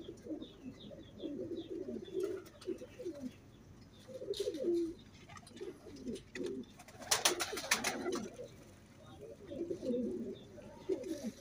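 A male Rampuri pigeon chasing a female coos in repeated low throaty phrases, close but fairly soft, with some rustling and a brief flutter of wings.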